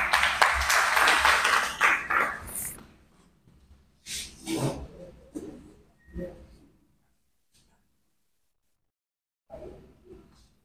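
An audience at a validation workshop for education officers claps after a speech, a burst of applause that fades after a couple of seconds into scattered quieter sounds.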